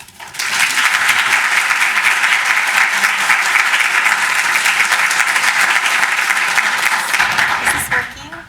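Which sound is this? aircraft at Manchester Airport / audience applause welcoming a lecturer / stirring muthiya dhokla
audience applause welcoming a lecturer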